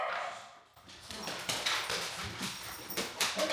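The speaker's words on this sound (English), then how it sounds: "dogs." Dogs whimpering and yipping indoors in a kitchen, thin whines and small barks rising over a soft background hiss, fairly quiet and close.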